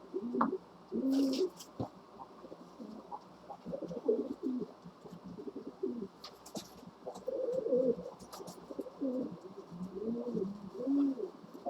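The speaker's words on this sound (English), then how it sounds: "Silly bird." Pigeons or doves coo repeatedly through the whole stretch, a steady series of soft rounded calls near at hand, with small clicks and a low hum from a model train workbench behind them.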